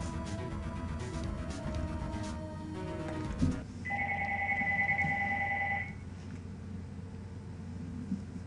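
A telephone rings in a Phoenix Wright: Ace Attorney courtroom game, a steady electronic two-tone trill lasting about two seconds over a low background hum, with no talk.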